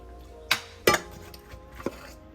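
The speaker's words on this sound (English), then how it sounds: "Get our dish here." A baking dish for au gratin potatoes being handled in a home kitchen, with two sharp clattering knocks early on and a softer clink later, close and distinct against a quiet room.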